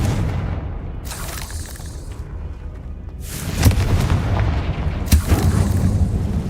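Confringo fire spell explosion in the video game Hogwarts Legacy, heavy booming blasts in a burst of combat, with two or three loud impacts over a rumbling, fiery background.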